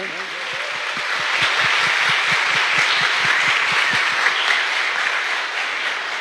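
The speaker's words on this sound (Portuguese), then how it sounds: "Vamos acolhê-los numa salva de palmas também" A church congregation at a Sunday mass breaks into sustained applause, a dense, steady wash of many hands clapping that fills the room for several seconds at an even level.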